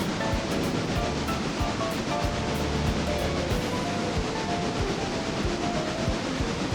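A heavy freight train in a video game, 18 cars and 1,003 tons, rumbles steadily along with a dense roar and rhythmic low thumps of wheels over rail joints, loud and continuous throughout.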